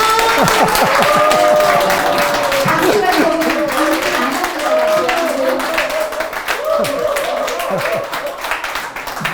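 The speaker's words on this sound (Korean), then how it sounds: "박수 한번 주세요" An audience at a health-care lecture claps loudly and steadily, a dense sustained applause with voices and cheers mixed in, tapering slightly toward the end.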